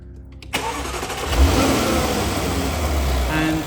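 A 2021 Jaguar F-Type First Edition 5.0 V8 P450 cranks and fires up in an echoing showroom, catching with a loud rev flare before settling into a deep, rumbling idle.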